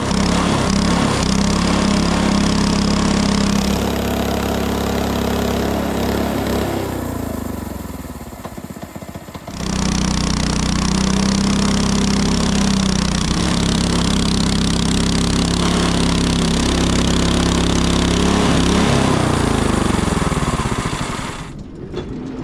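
A Frontier OS18 sawmill cuts a log into boards, a loud, steady engine drone with a grinding saw that drops away for a few seconds midway, then returns at full strength and fades out at the end.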